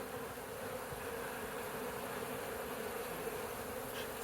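Bees pouring out of the end of a hollow log during a removal, a continuous close droning buzz of many insects, steady and unbroken with no talk.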